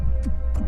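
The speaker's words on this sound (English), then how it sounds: "the heart beating too fast, too slowly, or irregularly" Heartbeat sound effect pulsing in two low thumps against a steady low hum, each beat close and soft, with no voices.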